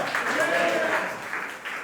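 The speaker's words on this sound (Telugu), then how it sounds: "చప్పట్లు కొట్టి ఆ దేవుని మహిమపరుద్దాం." Church congregation at an anniversary worship service clapping together, a dense, sustained wash of applause with voices mixed in.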